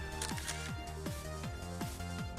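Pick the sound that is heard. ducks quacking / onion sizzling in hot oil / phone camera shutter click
phone camera shutter click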